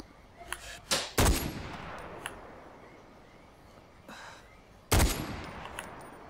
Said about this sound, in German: wir werden jetzt mal einen Sniper mal ausprobieren